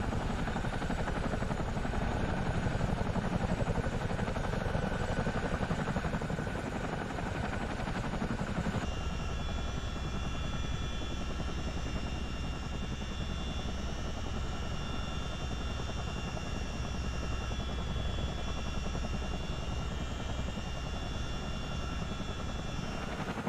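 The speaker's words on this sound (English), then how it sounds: "even if I shut down the engines, the rotors will continue to spin for another few minutes" Chinook CH-47D helicopter in Microsoft Flight Simulator, rotors spinning down after engine shutdown: a steady, loud rotor and engine roar that shifts to a lower, smoother drone partway through.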